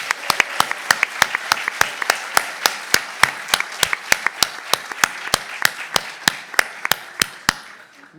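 Steady audience applause at a Brazilian academic seminar honouring a team, a brisk run of sharp hand claps ringing out evenly for about eight seconds before tapering off, with no talking over it.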